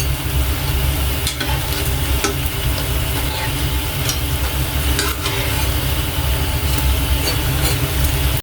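Jalebi batter frying in oil in a flat pan gives a steady, close sizzle with dense bubbling that runs throughout, broken by a few sharp clicks and taps. No voices are present.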